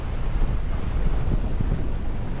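Sailboat under way with a reefed main and reefed headsail, heard as a loud, steady rush of wind buffeting the microphone over churning water and waves, with no voices.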